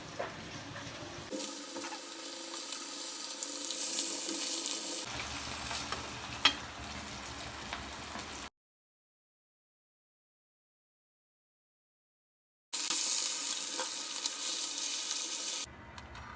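Fish frying in oil for a tamarind fish curry, a steady crackling sizzle with a brief pause partway through, close and moderately loud with no talking.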